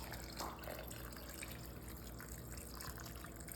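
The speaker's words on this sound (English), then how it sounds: "we are adding 3 cups of beef broth to our crock pot" Three cups of beef broth for a crock pot soup pour in a steady, continuous liquid stream, a soft gushing splash that runs evenly without pause, close and moderately quiet, with no speech.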